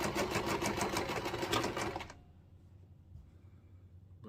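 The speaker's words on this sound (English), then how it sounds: "start off with your front stitch and then do your back stitch." A sewing machine stitching a fabric waistband runs in a fast, steady, close-up rattle for about two seconds, then stops, leaving quiet room tone with faint handling noises.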